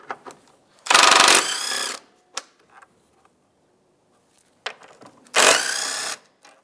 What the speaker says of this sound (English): We'll go ahead and remove those.